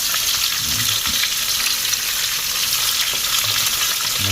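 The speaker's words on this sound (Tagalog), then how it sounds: "Ayan, nagpiprito na po tayo." Steady, loud sizzling of fish frying in hot oil, a constant crackling hiss with occasional soft clinks, no voices.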